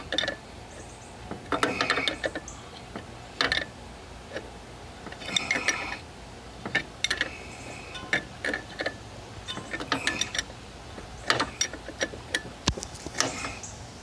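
Wrench working a 13 nut off a Craftsman rear end axle during teardown, a string of faint irregular metallic clicks and ratcheting ticks in short bursts, close by with no talking.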